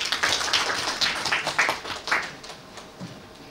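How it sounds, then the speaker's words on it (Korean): A forum audience claps for presenters coming to the stage, a fairly small group whose separate claps are audible, strongest early and thinning out toward the end. "박수 부탁드립니다."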